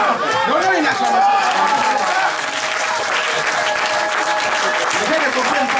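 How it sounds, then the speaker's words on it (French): A church congregation at a Sunday service bursts into loud, sustained applause and cheering, dense clapping mixed with crowd voices and chatter filling the space throughout. "Donnons une acclamation."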